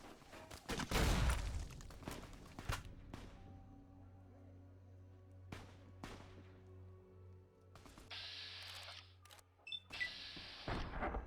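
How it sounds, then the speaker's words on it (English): Several sharp gunshots crack at irregular intervals in the video game Fallout: New Vegas, some loud and close and some fainter, with a low hum beneath and occasional bursts of noise. "I can still hear gunshots"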